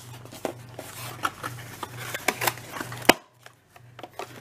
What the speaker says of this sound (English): I'll go ahead and take this thing out of the box